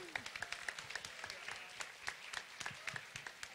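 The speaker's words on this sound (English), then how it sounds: "A big round of applause, everyone." Wedding guests applaud after family speeches, a faint, distant patter of scattered claps with voices murmuring underneath.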